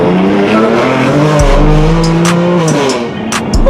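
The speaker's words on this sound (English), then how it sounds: "This car sounds like an absolute weapon." A 565 bhp BMW M4 with a very loud aftermarket exhaust accelerates hard, its engine note rising through the revs and dropping at a quick gear change, roaring close and loud throughout.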